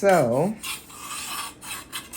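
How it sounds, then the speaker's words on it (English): Metal cake pans scrape and rasp against each other loudly and continuously in a kitchen while layers of box-mix German chocolate cake are being handled, with a brief spoken word at the start. "I'm sorry about the noise, the metal on metal"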